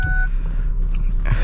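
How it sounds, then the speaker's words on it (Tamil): Honda City warning beep signalling a dead key fob battery: one short steady electronic tone at the start, then it stops, leaving a low cabin engine hum on a rainy night drive. "இந்த காரோடைய கீ பேட்ரி வந்து காலி ஆகிடுச்சுங்க. பீப் வந்துக்கிட்டே இருக்குது."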